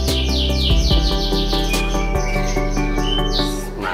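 A caged songbird at a market or shop sings loudly and continuously up close, with rapid repeated chirps, trills and sharp squawks over a busy background.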